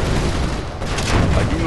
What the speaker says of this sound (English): Firing stinger.